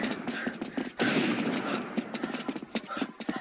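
Bursts of gunfire exchanged in the first-person shooter Line of Sight: a loud crack near the one-second mark, then a string of rapid shots through the rest.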